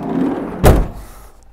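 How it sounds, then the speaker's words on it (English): A Renault Master minibus door shutting once with a single solid, close thunk, followed by a brief fading rattle and quiet. "Door shuts nicely."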